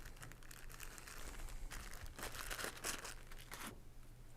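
Soft tissues crinkling and tearing up close, with irregular bursts of rustling and a low steady hum underneath.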